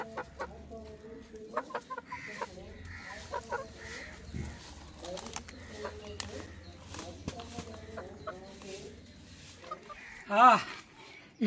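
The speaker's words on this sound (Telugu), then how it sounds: "కొన్న కోడి అండి అదండి పుంజు." A bought rooster clucks in short bursts at a home after rain, heard near and repeated through the clip alongside other chicken calls, under background talk and a low hum.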